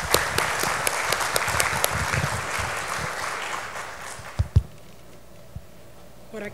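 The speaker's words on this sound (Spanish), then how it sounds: "vamos a recibirlo con un fuerte aplauso" A conference audience at the opening session of the 46th RCT gives the incoming meeting president a strong round of applause, loud and dense at first, then thinning to a few scattered claps and thumps.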